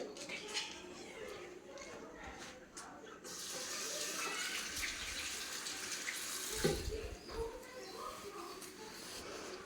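About half a cup of water is poured into a pan of spiced tomato masala for a fish curry, a rushing, splashing pour that starts partway through and runs steadily, with a voice faintly under it.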